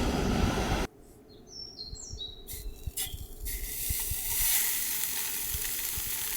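Outdoors at a hammock campsite in Sweden, a rocket pocket camping stove burns with a steady, rushing hiss that swells louder toward the end, while birds chirp faintly in the background.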